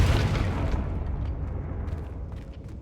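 A Confringo fire-blast spell exploding in Hogwarts Legacy: one deep, heavy boom hits at the start, then its rumbling tail fades out over a few seconds.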